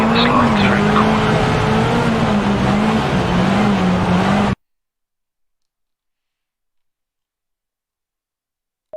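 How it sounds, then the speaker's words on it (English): Rally car in Richard Burns Rally power sliding through a corner marked by blue cones, its engine holding a steady loud drone with gravelly tire noise for about four seconds before cutting abruptly to silence. "When you reach the blue cones, initiate the power slide."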